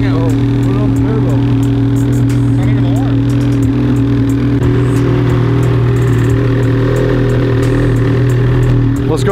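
Snowmobile engine droning steadily and loudly with a rising rev, heard late in the season on Gaspé Bay, with people talking over it throughout.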